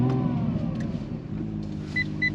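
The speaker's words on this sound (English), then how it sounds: "Starts up kind of reminiscent of the original NSX then." A 2018 Acura NSX fires up at the push of a button, its engine catching into a steady low idle rumble with faint high electronic chimes toward the end.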